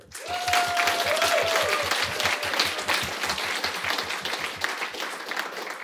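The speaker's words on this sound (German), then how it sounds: "Also einmal ein Applaus für Ruben." Audience applause after a business talk honoring a PR consultancy named fastest-growing agency of 2023, sustained dense clapping from a crowd for several seconds with a brief whistle or cheer near the start.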